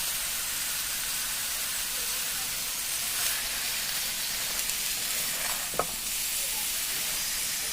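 Leafy greens fry in oil in a pan on a gas stove, giving a steady, close sizzle and hiss throughout with an occasional stir or clink of a utensil.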